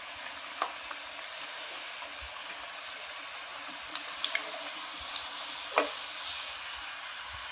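Singara (samosa) frying in oil, a soft steady hiss with sparse pops and crackles, fairly quiet and without voices.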